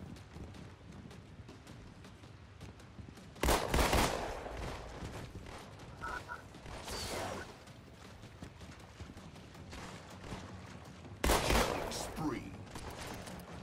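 Bursts of gunfire from a Halo: The Master Chief Collection custom match, two loud volleys several seconds apart over a steady game background, with a player's voice speaking in between.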